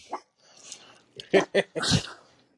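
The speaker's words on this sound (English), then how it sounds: "there's a dog" A dog gives a few short, sharp barks in quick succession, fairly close and clear, after a quieter stretch with faint background noise.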